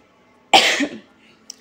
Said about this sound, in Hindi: खांसी भी लग रही है दोस्तों बहुत ज़्यादा